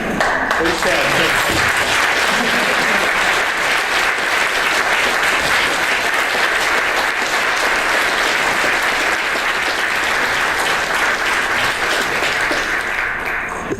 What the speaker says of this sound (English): The applause said it all,